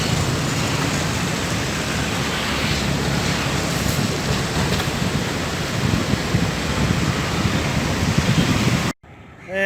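A swollen river in flood flows with a loud, continuous roaring rush, broad and steady for most of the stretch before cutting off abruptly near the end; no speech is heard.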